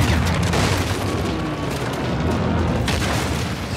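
An RPG rocket explosion in the Uncharted 4 video game, a heavy sustained boom filling the whole clip with dense low rumble and a loud, steady roar, with a second blast swelling near the end.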